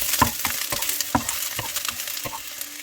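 Garlic frying in oil for a pork curry, a soft sizzle broken by repeated sharp clicks and scrapes of stirring at an uneven rhythm, close and fairly quiet.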